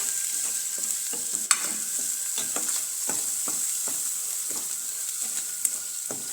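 Chana gravy with lemon juice and sugar being stirred in a pan: a steady sizzle with repeated scraping strokes of a spoon, one sharper knock midway, no talking.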